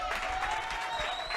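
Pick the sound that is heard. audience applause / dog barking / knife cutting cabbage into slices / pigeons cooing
audience applause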